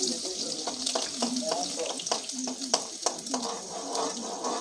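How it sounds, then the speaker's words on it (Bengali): Garlic fries in a pan in a Bengal home kitchen, giving a steady close sizzling hiss broken by repeated scraping stirs of a spatula, with no voice over it. "এবার রসুনটা একটু ভাজা ভাজা ভাজা ভাজা হয়েছে"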